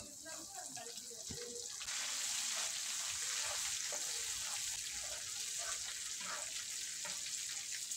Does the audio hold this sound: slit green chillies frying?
yes